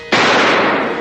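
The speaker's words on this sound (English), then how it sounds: "A gunshot." A single loud gunshot blasts close by, a sharp sudden crack followed by a long rough decaying roar that fills the space.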